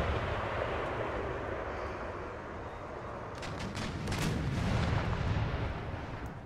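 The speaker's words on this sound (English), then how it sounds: "But all this artillery back here will ensure we get in." Artillery and mortar fire in the strategy video game Empire: Total War, a steady rumbling barrage of distant booms with a cluster of sharper blasts in the second half.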